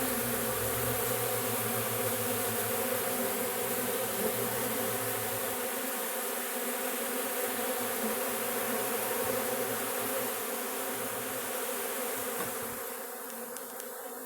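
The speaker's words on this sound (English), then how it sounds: "just finishing up with my buddy Saban's extractor and letting the bees clean everything up for me" A dense swarm of honeybees buzzes loudly and steadily around a honey extractor while they clean it after the harvest, a close, continuous drone that thins slightly near the end.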